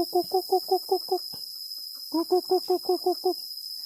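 A chicken clucks in two quick runs of about seven rhythmic, evenly spaced notes separated by a short pause, close and clear over a faint steady high-pitched background tone.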